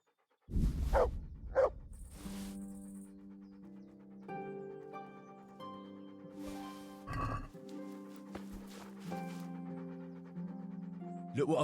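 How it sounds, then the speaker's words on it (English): A dog in the video game Kingdom Come: Deliverance gives a few quick panting bursts, then scattered barks, close and fairly loud over sustained tonal background music. "There's the good doggy."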